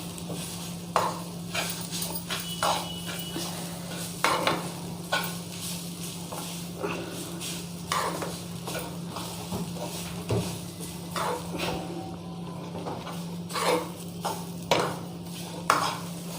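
A spiced kachori filling is stirred in a pan, with a soft continuous sizzle and repeated scraping and clinking strokes at an uneven rhythm and no talking.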